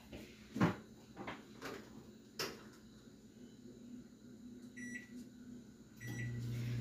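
A microwave oven hums steadily while heating gelatine for a dessert decoration, its low drone running under a few kitchen knocks and clicks, then a short beep series and a louder motor hum starting near the end.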